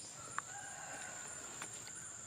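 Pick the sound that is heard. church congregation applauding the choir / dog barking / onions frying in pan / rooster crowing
rooster crowing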